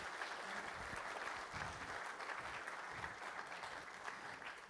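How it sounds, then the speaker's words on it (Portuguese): Audience clapping for cooperative staff at a pre-assembly meeting, a soft, distant wash of steady applause lasting several seconds without clear talk. "palmas para eles"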